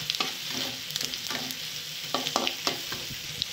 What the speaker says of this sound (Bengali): এখানে জিরে আর তেজপাতা দিয়ে দেবো।